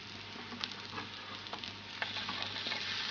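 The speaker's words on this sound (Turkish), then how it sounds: "şimdi köftemi pişireceğim" Beef and chicken meatballs fry in a pan with a steady, close sizzle and scattered small pops and crackles.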